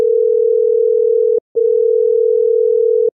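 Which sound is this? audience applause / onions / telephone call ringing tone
telephone call ringing tone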